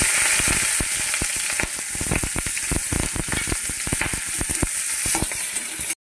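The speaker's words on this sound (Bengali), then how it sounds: "তেলের মধ্যে পেঁয়াজ আর কাঁচা লঙ্কা ছেড়ে দিলাম" Onion and green chilli are dropped into hot oil in a pan for a hilsa-head taro and Malabar spinach dish, producing a loud, dense sizzle with rapid crackling pops and stirring that stops abruptly.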